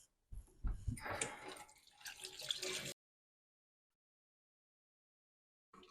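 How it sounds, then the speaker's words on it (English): Chicken livers being poured into a kitchen sink and rinsed under filtered water, a short splashy burst of running and dripping water lasting a couple of seconds before it stops into silence. "I'm just going to pour them in here and rinse them with some filtered water."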